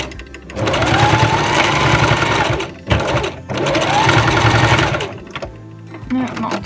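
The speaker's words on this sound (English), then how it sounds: "the sewing machine can struggle with that" A sewing machine stitches through thick layers of fur on a fursuit tail belt loop, whirring loudly in two long bursts with a short pause between, followed by a quieter stretch with faint sounds.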